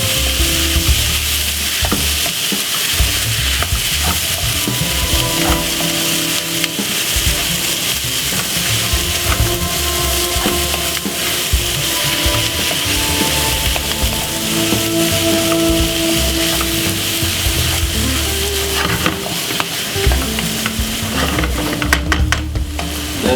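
King prawns, 2 kilos of them, are stirred through a frying curry with new potatoes, giving a steady loud sizzle broken by repeated scraping and knocking of the spoon against the pot, with no talking.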